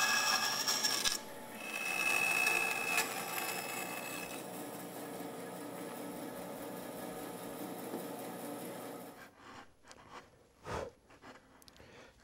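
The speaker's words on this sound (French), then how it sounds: "au niveau de l'épaulement, on fera simplement un nettoyage avec notre ciseau à bois" A wood chisel cleans a dovetail shoulder in a furniture workshop, making steady close scraping and rasping strokes for several seconds, then a few sharper separate scrapes and taps toward the end, with no talking.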